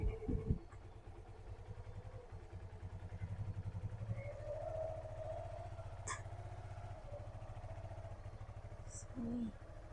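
A motorcycle engine idles with a steady low putter before a first bike ride, running continuously close by while someone talks over it.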